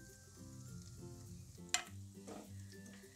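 Mashed potato is stirred into a sizzling frying pan with turmeric for Maharashtrian batatyache bharit, with soft scraping strokes over a gentle sizzle and one sharp clink of the utensil.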